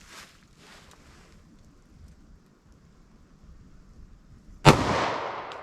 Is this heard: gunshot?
yes